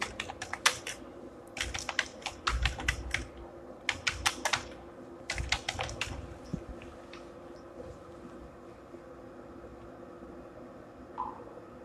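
Bursts of computer keyboard typing while searching for a blog plugin, quick clusters of close, crisp key clicks separated by short pauses over a faint background hiss.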